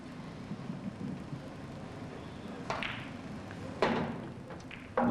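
Pool balls strike sharply a few times during a cannon shot in a championship quarter-final, with three distinct clicks spaced over several seconds against faint hall ambience.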